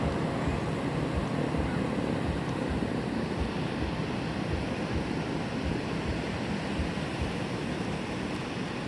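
Sea waves at a beach wash in a steady, continuous broadband roar with faint rhythmic surges and no voices.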